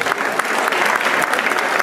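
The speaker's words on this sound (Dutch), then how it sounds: "Een applaus voor Ben Dolkenmade." An audience applauds at a Dutch show as a name is announced, a brief, loud, continuous burst of clapping that fills the whole moment without a break.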